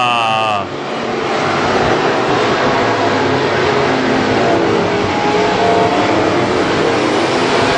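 WISSOTA Midwest Modified race cars roar around Granite City Speedway, a loud sustained engine wash that swells after a brief opening tone, with an announcer talking over it.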